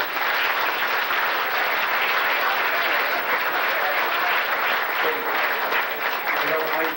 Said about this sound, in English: how about a big round of applause for our Frank Moraga